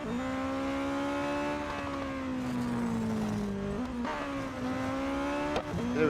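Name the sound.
race car engine in video game Real Racing 3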